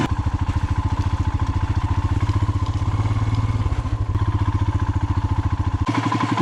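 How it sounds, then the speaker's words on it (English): A motorcycle rides through snow slush at Sela Pass, its engine chugging loud and close in a fast, steady pulse, with a brief dip and a change in tone near the end. "tough part where bike keeps slipping. You won't get a grip proper."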